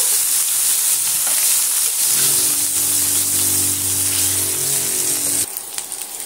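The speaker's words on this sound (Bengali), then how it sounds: "আমি আলুগুলো দিয়ে এইভাবে ভাজা করে নেব।" Potatoes frying in hot white oil make a loud, continuous sizzling hiss, with a low humming tone in the middle section before the sound drops to a lighter crackle near the end.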